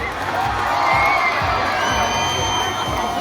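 A festival crowd at an outdoor music event cheers and shouts, a loud continuous roar of voices with whoops and rhythmic low thumps underneath.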